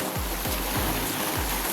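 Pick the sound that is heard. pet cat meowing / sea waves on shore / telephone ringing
sea waves on shore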